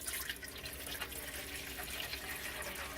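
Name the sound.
water being filled into DeLonghi espresso machine water container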